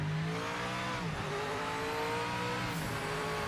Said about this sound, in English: You even hear the blow-off valve, the car dips down on the shifts